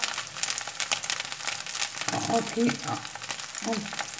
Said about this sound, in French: Et on va mettre dans la poêle avec un peu d'huile et du beurre. Et les faire dorer.